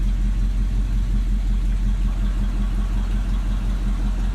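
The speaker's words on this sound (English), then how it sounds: "I can't even really describe the sound of the exhaust, but it just sounds like an old truck" An old Chevy K20 pickup truck engine running steadily with a deep, rumbly exhaust, a constant low throb close by with no talking.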